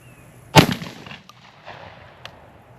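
A shotgun fires a single sharp, loud blast of bismuth Chenier shells during a pattern test outdoors, followed by a fading echo and a couple of faint distant knocks.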